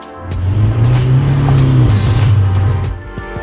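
A Ferrari 488 drives past close by, its engine note swelling loudly, holding for a couple of seconds, then fading as it moves away, with no talking.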